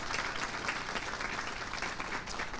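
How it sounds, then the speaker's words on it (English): A crowd at a Kessler Scholars senior celebration applauds the newest alumni, an even, sustained patter of many hands clapping, moderately distant and without voices on top. "a big congratulations and round of applause to all of our newest Kessler alum"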